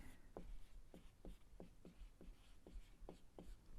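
Handwriting during a science lesson on proteins, close and faint, with about a dozen quick, evenly spaced scratchy strokes in a steady rhythm and no voices.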